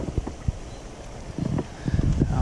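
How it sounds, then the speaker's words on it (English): Wind gusting over a small fishing boat on the Salt River, rough low buffeting rumbles in irregular bursts that build toward the end, close to the microphone. "Now the wind is going to blow us into the reeds."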